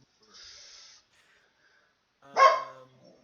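A house dog lets out a single sharp bark close to the microphone, preceded by a faint breathy sound, in an otherwise quiet room.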